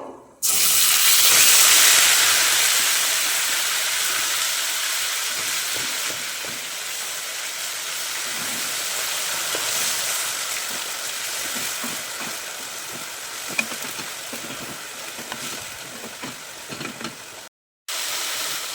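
Onion paste drops into hot oil with whole garam masala for Bengali doi katla fish curry. It sets off a loud, sudden hissing sizzle that settles into a steady, slowly fading crackle, then cuts out briefly near the end.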